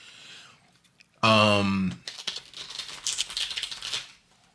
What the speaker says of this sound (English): they over here battling card shuffling